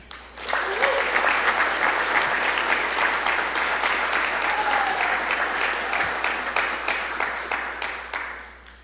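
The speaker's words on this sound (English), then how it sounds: "Please join us in a round of applause." Audience applause at a university coronation event in a large hall, a full, steady roar of clapping that swells in quickly and slowly fades over about nine seconds, with faint voices mixed in.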